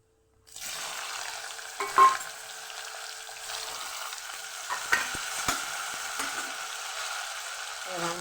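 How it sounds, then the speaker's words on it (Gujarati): Vegetables for a Kathiyawadi mixed vegetable dish frying in oil tempered with cumin, mustard seeds and asafoetida, a steady loud sizzle with scraping stirs and a few clinks of the spoon against the pan, no voices. "પછી હવે એમાં આપણે શાક ઉમેરશું"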